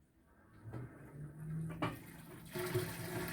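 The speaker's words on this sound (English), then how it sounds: "Just heard the drain pump kick on and the tub is it is rotating a little bit to help get that water out of there." A top-load washing machine, model WT6105, kicks on its drain pump while the tub rotates slightly, giving a rising hum and rushing water, with a couple of clicks and a louder surge partway through.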